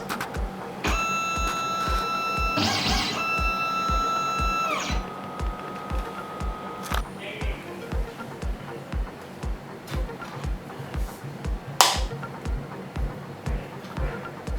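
Xhorse Dolphin XP005-L key cutting machine powering on, a steady electronic tone with start-up beeps over a regular mechanical ticking pulse, then a brief whir and a sharp click near the end.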